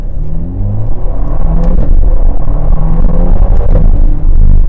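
Ferrari Portofino exhaust barking through quick downshifts, a loud, close rumbling engine with rapid rev blips and stepped pitch changes, with no voices over it.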